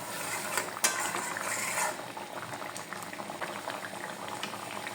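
Egg mustard curry bubbles steadily in a covered pan, a close, continuous simmering gurgle with small pops and a couple of brief clinks near the start.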